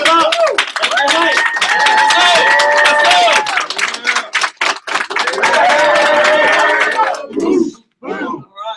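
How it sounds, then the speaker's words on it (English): An evening meeting audience stands and welcomes a guest with rhythmic clapping, loud whoops and shouting voices, close and energetic before breaking off into a few scattered bursts. "Hey, let's stand up. Hey, let's go. Clap it up."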